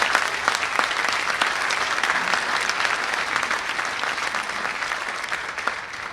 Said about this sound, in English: So can we give the parents a round of applause